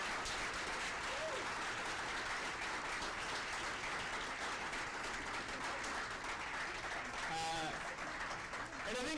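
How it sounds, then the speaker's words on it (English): A seated audience applauds a panel discussion at an education conference keynote, with sustained, fairly quiet clapping that holds steady from start to finish. "I'd love to ask you for a round of applause for this wonderful panel and this great conversation."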